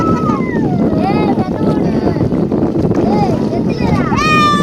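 A boat moves over the sea with steady wind and engine noise, while people talk and shout nearby.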